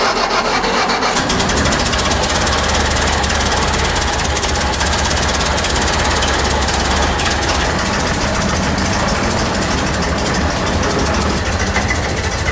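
A 1932 Ford Model B pickup engine runs steadily throughout with a loud, continuous rough idle and a mechanical clatter, heard close up.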